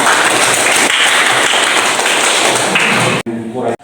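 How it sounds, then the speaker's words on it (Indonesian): A classroom of students applauds a classmate with loud, dense, continuous clapping that fills the room, then cuts off abruptly near the end, leaving a brief voice. "Tepuk tangan buat"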